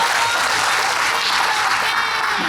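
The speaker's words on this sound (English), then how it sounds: "A round of applause for Mr. Isaiah Belknap" Audience at a 2024 school district commencement ceremony claps steadily, a broad even wash of many hands applauding throughout.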